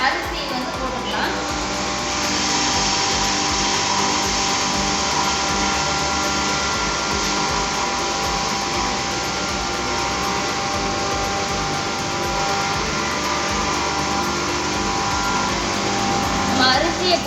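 An electric grain mill grinds rice with a loud, steady, close motor whine and roar that holds unbroken from start to finish.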